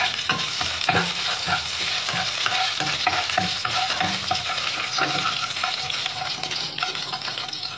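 Whole cinnamon and other whole spices frying in hot oil in a pan for chicken biryani, stirred with repeated scraping strokes over a steady, close sizzle with no one talking.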